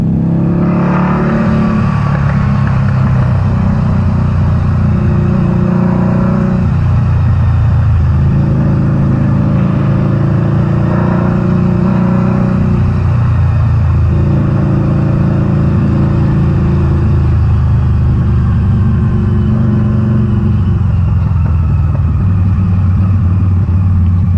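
A 2012 Harley-Davidson V-Rod Muscle 10th Anniversary motorcycle engine rumbles loudly and continuously while riding, with deep throbbing swells as the throttle rises and falls.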